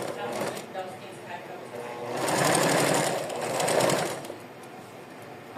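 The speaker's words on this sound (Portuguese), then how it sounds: "Aqui eu vou fazer o acabamento nesse babadinho aqui, que é passando uma costurinha." A sewing machine runs close by in short bursts, a fast mechanical chatter rising and falling as it stitches a finishing seam along a small ruffle on doll clothing.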